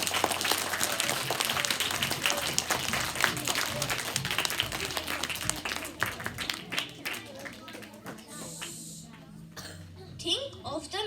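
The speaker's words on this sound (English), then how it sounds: "Everyone, please give them a huge round of" Audience applause at a school assembly, a dense crowd clapping steadily, then thinning out into scattered claps with coughs and murmuring voices toward the end.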